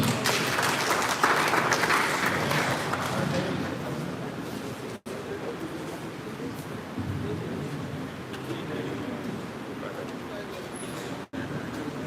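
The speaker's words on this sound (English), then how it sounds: "please clap for all of them" A large audience at a Catholic gathering in Calabar claps for the bishops, a broad sustained wash of applause that stays steady for the whole stretch with a murmur of crowd voices beneath it.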